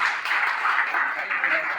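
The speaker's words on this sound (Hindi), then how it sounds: "एक बार अपने लिए आप जोरदार तालियां बजाएंगे बच्चों" Schoolchildren clap together at a school admission ceremony, a dense, steady burst of applause that carries on at even strength for a couple of seconds, with some voices mixed in.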